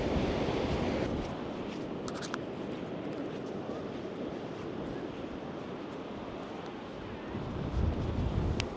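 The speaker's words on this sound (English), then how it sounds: "It's fairly windy, alright, but it is a beautiful day." Steady wind buffets the microphone outdoors on a sunny hike near Sheep's Head lighthouse, a continuous low rumbling roar that swells slightly near the end, with no one speaking.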